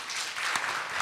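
A conference audience breaks into brief, steady applause for the panelists at a gender practitioners' community of practice event, a dense patter of many hands clapping without pause.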